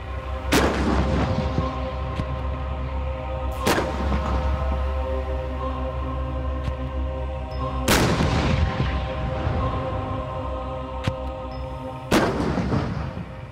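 Challenger II tank main gun firing on a firing range: four loud, sharp booming shots spaced a few seconds apart, each with a long rumbling decay, over a steady low engine drone and no talk.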